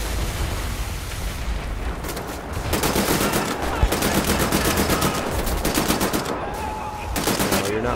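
Turret machine gun fire in the game Wolfenstein: The New Order, a loud, dense, continuous rattle of rapid shots with brief pauses between bursts, close and overwhelming.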